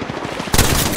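Rapid automatic gunfire in the Apex Legends video game, a fast rattle that jumps louder and brighter halfway through, close and dense, with no talking.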